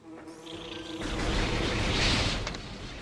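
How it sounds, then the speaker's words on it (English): A loud, steady electronic buzzing of bees in the video game Metroid Prime swells and holds for a few seconds after a brief tonal chime. "Fight even more bees."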